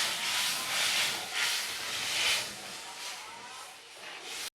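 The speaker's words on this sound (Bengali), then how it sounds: "মশলাটা কষানো হয়ে গেছে, জল দিয়ে দিচ্ছি।" Water poured into fried spice paste for Bengali-style bata fish jhal sets off a strong, hissing sizzle that swells and eases in waves, then ends with a sudden sharp clatter.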